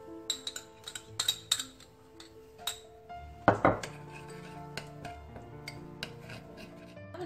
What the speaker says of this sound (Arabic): دوك انا ما عليا غير باش نخلط كاع هاد المكونات